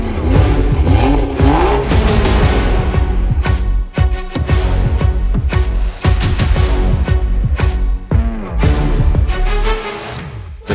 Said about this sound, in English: BMW F87 M2 delivers a thrilling driver's experience through its potent turbocharged 6-cylinder engine